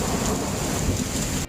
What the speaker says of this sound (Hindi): एक दिन गांव में भारी बारिश हुई।